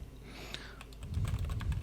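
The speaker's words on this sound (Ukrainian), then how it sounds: "І прям звука клавіатури, прям дуже чітко." Typing on a Rapture X-Ray mechanical keyboard with Outemu Red switches: a quick run of close, crisp keystrokes that grows busier toward the end.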